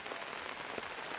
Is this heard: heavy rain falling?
yes